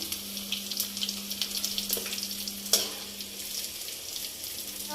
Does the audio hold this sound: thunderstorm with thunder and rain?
no